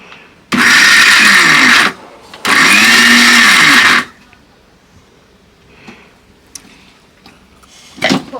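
A mixer grinder runs in two loud bursts of about a second and a half each, stopping briefly between them, then falls silent apart from faint clicks and handling noises in a kitchen.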